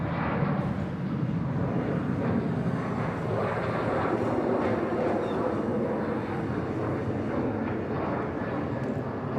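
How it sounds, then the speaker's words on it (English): A Garuda Boeing 737-800 takes off at Bangkok Suvarnabhumi Airport, its jet engines making a loud, continuous broadband roar that holds steady throughout. "Off goes Garuda, the 737-800."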